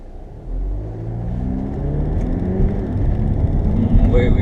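An Audi A3 TDI with a DSG gearbox pulls away in sport mode, the diesel engine rumbling up through rising revs, steady and close from inside the cabin.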